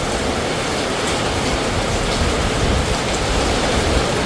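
Steady rain falls on a ranch, a dense, even hiss of drops close by that fills the whole stretch without pause or voices.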